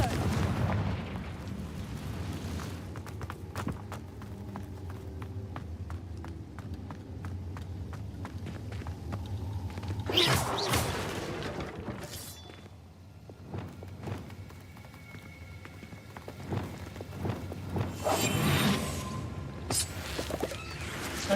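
In the Hogwarts Legacy video game, Confringo blasting spells burst amid ongoing combat: rumbling low thuds and running footsteps fill the scene, with two louder, sharper blasts standing out partway through.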